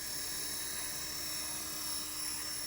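A small radio-controlled helicopter's rotor whines and buzzes steadily at high pitch as it spins up, a continuous mechanical drone with a faint hum underneath.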